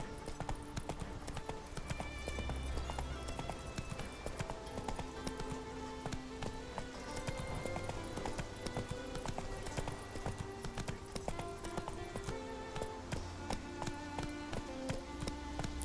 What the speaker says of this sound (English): I haven't really listened to the horses walking before.